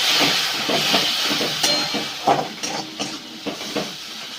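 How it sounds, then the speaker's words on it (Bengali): Water poured into a hot pan while cooking okra gives a loud, close burst of steamy hissing that eases into a softer sizzle with some light crackles. "এবার আমি সামান্য একটু জল দিয়ে দিচ্ছি, দিয়ে কষে নিচ্ছি।"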